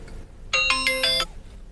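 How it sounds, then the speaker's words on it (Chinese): An outgoing telephone call rings out as a single short electronic ringing tone, bright and clear, standing alone over a quiet room background. "我跟他打个电话啊，录一下。"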